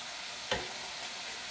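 Soup ingredients fry quietly in a pan with a low, steady sizzle and one brief stirring scrape partway through.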